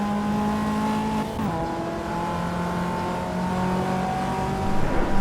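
Race car engine in the Assetto Corsa EVO racing game, a steady loud droning engine note with shifting pitch as it shifts and revs, building slightly at the end, with no talk.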